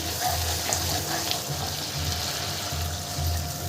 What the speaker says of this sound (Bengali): এবার এর মধ্যে আমি দিয়ে দেবো পরিমাণ মতন জল